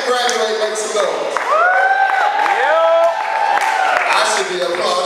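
A live audience cheers, whoops and claps together in a loud, lively burst of crowd noise, with a few voices rising above the rest.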